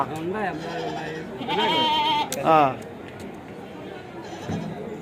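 Goats for sale at a weekly Tuesday goat and sheep market in Kadiri bleat several times, close and loud, in wavering cries, among crowd chatter and people talking.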